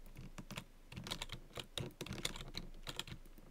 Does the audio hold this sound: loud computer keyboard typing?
yes